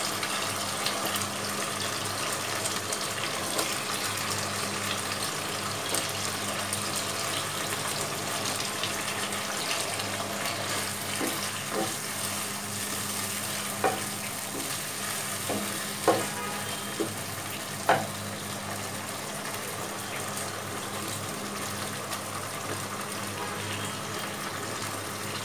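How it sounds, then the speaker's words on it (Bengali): Bottle gourd being mixed with spices in a pan for hilsa curry gives a continuous soft hissing sizzle, broken by occasional light clinks and scrapes of a spoon. "এখন আমি অল্প অল্প করে লাউ দিয়ে মশলার সাথে লাউগুলিকে মিশিয়ে নেব"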